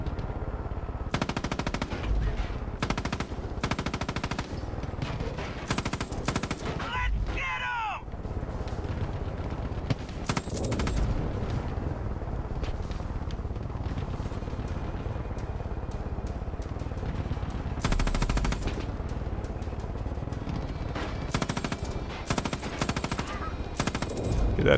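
Turret machine gun fire in Far Cry 5 rattles in long, rapid bursts, loud and close, broken by short pauses and mixed with other game sounds.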